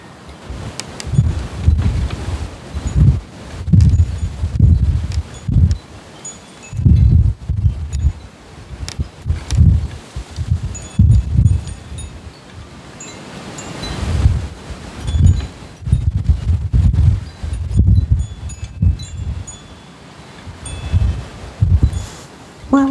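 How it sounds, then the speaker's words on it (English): Wind gusts repeatedly sweep through garden foliage, bursts of rustling leaves swelling and fading in waves with buffeting wind noise against the microphone, fairly close and loud. "Let's wait for a big gust."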